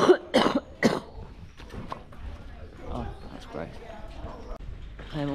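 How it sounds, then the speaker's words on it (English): A few loud, chesty coughs close by near the start, followed by quieter street bustle and faint background voices. "I'm also coughing up gross bits of phlegm"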